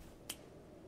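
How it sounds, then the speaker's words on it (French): A single crisp finger-snap emote from the video game Elden Ring, one sharp, quiet click in an otherwise near-silent moment. "On récupère le claquement de doigts et tester."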